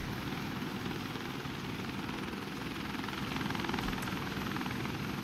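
Steady helicopter rotor and engine drone from the video game WARDOGS, loud and continuous throughout with no breaks, heard from inside or close by the aircraft.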